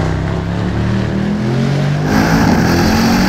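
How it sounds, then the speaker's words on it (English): Mercedes E63S AMG sedan's exhaust note on a track, a loud steady engine drone with shifting harmonic tones that swells slightly as the car drives through the hangers, heard alone without talk. "Good display of exhaust note back here through the hangers."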